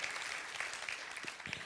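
Scattered, fairly quiet applause from a seated conference audience, steady clapping spread through the room and heard from some distance, with no voices over it.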